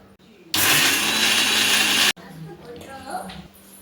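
A mixer grinder whirs loudly as it grinds curd with spices, a dense steady roar lasting about a second and a half before cutting off abruptly, with quieter kitchen sounds and low voices before and after.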